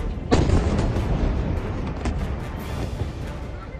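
Explosions from an Iranian missile attack on Israel: a sharp loud blast near the start, followed by continuous heavy rumbling and crackling with a few fainter thuds.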